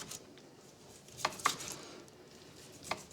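A knife chops Otway ham into small batons on a cutting board, giving a few faint, sparse taps spaced irregularly against a quiet kitchen background.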